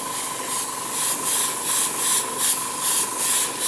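Black spray paint hissing from an aerosol can in short repeated bursts, a light dusting over a chevron stencil on a landing pad model for a tabletop wargame, steady and close with rhythmic pulses.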